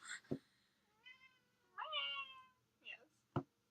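A cat meows several times, drawn-out and fairly close, with a couple of sharp knocks in between in an otherwise quiet room.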